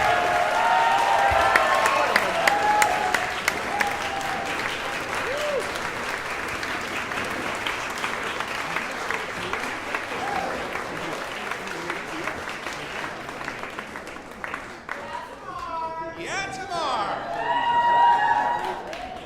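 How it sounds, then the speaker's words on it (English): Audience applause at an anniversary celebration, a long, full round of clapping with some cheering that thins out toward the end, where voices talk over the dwindling claps. "More rounds of applause for Tamar."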